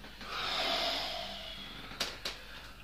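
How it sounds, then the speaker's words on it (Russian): A long, drawn-out exhalation during a guided breathing exercise in a massage and manual therapy session, a steady soft airy breath lasting over a second, followed by two short sharp puffs of breath near the mic. "Теперь длинный протяжный выдох."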